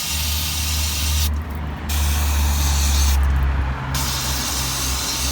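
Close brake cleaner spraying on brake caliper pistons in two long hissing bursts, each cut off by a short pause, over a low constant hum.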